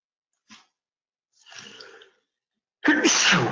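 A single sharp sneeze bursts out near the end, preceded by a short intake and some breathy sounds, in an otherwise quiet room.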